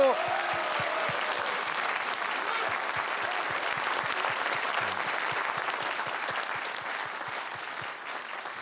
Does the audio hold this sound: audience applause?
yes